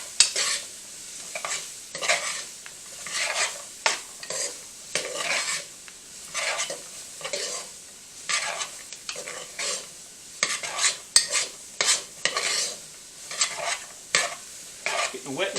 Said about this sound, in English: So I've got to get this stirred into my vegetables.